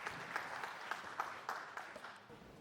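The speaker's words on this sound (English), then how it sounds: "Everyone give a round of applause for Jen, who's our keynote speaker." A keynote speaker's audience applauds, soft scattered clapping with a few sharper claps rising above a faint, distant wash of hands, brief and quiet.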